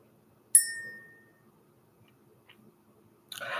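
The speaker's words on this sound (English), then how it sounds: "Let's ring this bell." A single bell is struck once, ringing out clear and bright before decaying into near silence, followed moments later by a brief burst of bright clinking.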